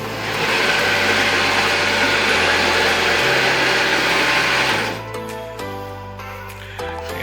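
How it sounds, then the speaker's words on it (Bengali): A Chinese automatic sewing machine stitching a rubber mattress drones in a loud, steady mechanical whir that holds for about five seconds, then drops to a quieter hum with tonal motor whine. "অটোমেটিক মেশিনের মাধ্যমে আমরা এটিকে সেলাই করে থাকি, যার কারণে এই সেলাইটি বছরের পর বছর টেকসই থাকবে।"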